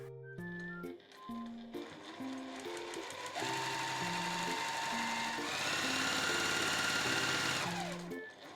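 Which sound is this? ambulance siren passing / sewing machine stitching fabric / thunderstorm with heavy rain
sewing machine stitching fabric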